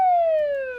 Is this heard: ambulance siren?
yes